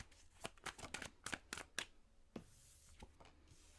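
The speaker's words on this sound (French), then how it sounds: "Donc, on va aller sortir un petit 5 cartes." Tarot cards are shuffled and flicked close up in a quiet room: a series of crisp riffling snaps, then a softer slide and a single card being drawn, with no talking.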